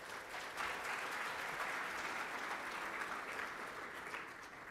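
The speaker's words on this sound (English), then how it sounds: "So please give a round of applause for Alex Gaynor." A conference audience at DjangoCon 2012 gives sustained, even applause, a dense wash of many hands clapping steadily at moderate distance with no speech over it.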